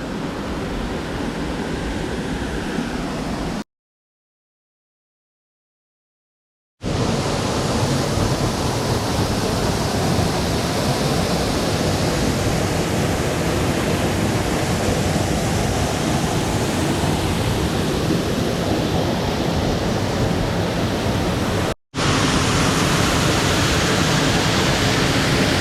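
Steady roaring rush of falling water from Sgwd Einion Gam waterfall in a forest basin, heard from behind the falls, loud and continuous, broken by one long gap of silence and a brief dropout later.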